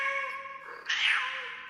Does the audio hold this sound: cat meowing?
yes